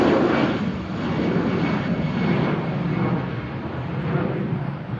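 A jet airliner roars down the runway at Manchester Airport as it rotates for takeoff, a loud, sustained rumble swelling and fading slightly, with no voices.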